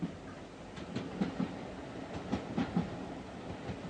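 The Royal Scotsman, a Scottish luxury train with restored 1980s carriages, runs along the rails with a steady rolling rumble and a series of rhythmic clickety-clack wheel beats over the joints, heard alone.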